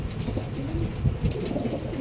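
Breeder pigeons coo softly and repeatedly close by, low throaty murmurs rolling one into another with no talk over them.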